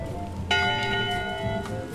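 A single ship's bell strikes once in the pirate video game Return to Monkey Island, a clear metallic clang with a long ringing tone that fades over soft background music.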